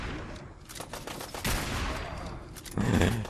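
Rapid gunfire from a weapon in the video game Fallout 4, a dense fusillade of shots with a sharp burst near the middle and a heavier, louder volley at the end, with no talking.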